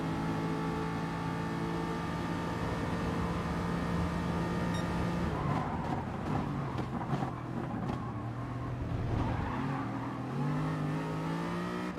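Touring race cars in the Gran Turismo Sport video game roar continuously, engine pitch climbing and dropping through gear changes as they race together, loud and unbroken with no talking.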